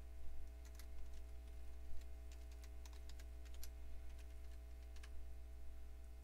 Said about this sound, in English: type in your computer name